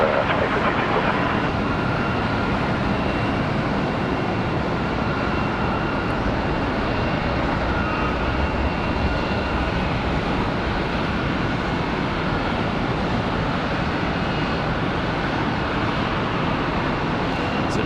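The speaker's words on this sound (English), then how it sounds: "that 737 MAX 8 to San Antonio, Texas" A Boeing 737 MAX 8 departing Charlotte Douglas International Airport, a loud, sustained broadband jet engine roar that holds steady throughout, heard from the ground at a distance.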